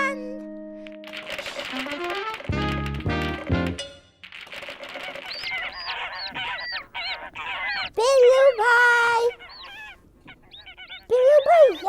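A cartoon duck honks and quacks in short, bright, nasal calls over the final seconds, mixed with music and sound effects, with a voice speaking early on.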